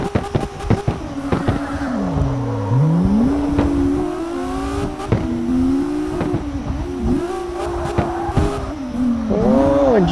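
In the CarX Drift Racing 2 video game, a race car drifts with a loud engine that rises and falls in pitch as it revs, while tires squeal and skid almost nonstop for ten seconds, with no voices.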